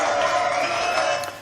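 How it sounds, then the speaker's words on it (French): A French TV studio audience claps and cheers for a contestant in a brief, loud, dense burst that tapers off at the end. "applaudissements pour Noémie"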